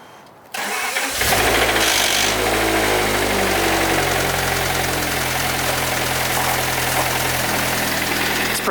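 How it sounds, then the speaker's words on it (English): Car engine with rod knock cranking, catching and settling into a loud, close idle with a steady rhythmic rough ticking throughout. "you want to hear the knock on the engine?"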